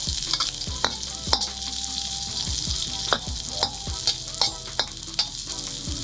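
Ginger, onion and garlic sizzle steadily in a hot pan while a utensil scrapes and knocks against the metal as it stirs, close and continuous with irregular clatters.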